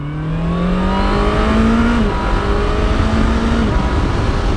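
Honda CBR650R E-Clutch motorcycle accelerating hard through gears in its soft shift setting, a loud close engine note climbing steadily, dropping sharply at a clean upshift near the two-second mark, then climbing again toward a second shift.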